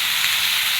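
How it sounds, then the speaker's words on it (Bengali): Vegetables fry together in a pan, giving a brief, steady sizzle that fills the moment with no talk. "একসাথে সব কিছু দিয়ে ভাজা ভাজা করে নিব"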